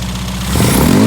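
A Mini's engine runs roughly at close range, a loud uneven idle that rises into a brief rev partway through, with some mechanical clatter.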